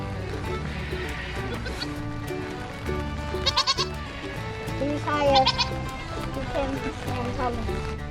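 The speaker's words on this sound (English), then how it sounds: "Goats are down below." Goats at a zoo, kept in a pen down below, bleat in several short wavering calls over a busy, layered background of other sounds.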